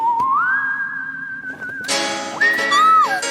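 A ghostly whistled melody rises and holds a long wavering tone, then breaks into a brighter, louder burst of whistling with a second sliding phrase, with no talking over it.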